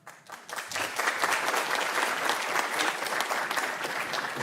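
An audience applauds at the HackSussex 2024 hackathon closing ceremony, clapping swelling quickly after a brief pause into a sustained, dense round that stays steady to the end.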